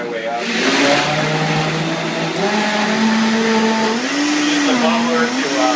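A blender mixes banana juice, starting on a low whirring hum and then stepping up in pitch as the motor is turned higher, loud and close, with a continuous steady drone and a rising, wavering tone near the end.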